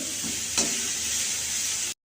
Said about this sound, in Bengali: আর এদিকে কপিটা ভাজা হচ্ছে। কপি ভাজতে একটু টাইম লাগে।